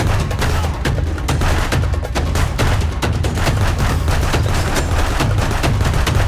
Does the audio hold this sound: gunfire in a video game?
yes